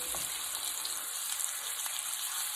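Blackened salmon fillet sizzling steadily in a hot pan just after being flipped, a dense, even hiss of frying oil that stays close and continuous with no talking.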